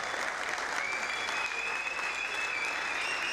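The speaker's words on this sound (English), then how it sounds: "Can I have a big round of applause for my team" Big crowd applause at a bouldering final of a climbing festival, dense and continuous clapping at steady loudness throughout, with a few voices faintly mixed in.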